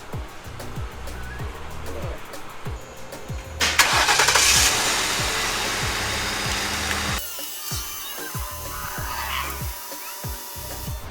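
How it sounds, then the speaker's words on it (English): A 2011 Ford Crown Victoria engine cranks with a rapid whirring starter, then catches and settles into a steady idle, close and fairly loud. "I'm gonna start the engine again."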